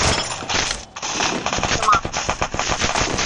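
Rapid automatic gunfire in a mobile shooter video game, dense bursts of machine-gun shots rattling loud and close over a few seconds, with a voice talking underneath.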